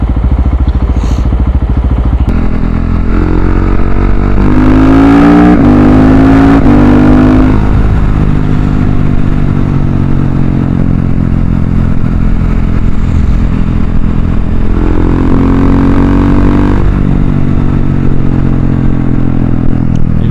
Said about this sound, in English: Gotta love the sound of a thumper.